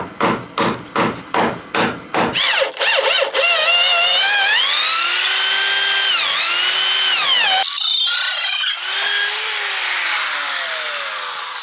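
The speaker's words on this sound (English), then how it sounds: "I'm going to drill through and fix those threaded rods through" A power drill with a 12mm bit starts with several rhythmic bursts, then runs steadily with its pitch rising and dipping as it bores through timber, loud and close.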